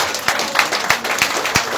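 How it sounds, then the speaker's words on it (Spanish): Concert audience applauding a performer, dense clapping with a few sharper individual claps standing out, steady and fairly loud throughout the short burst. "Pedimos un fuerte aplauso para Cata."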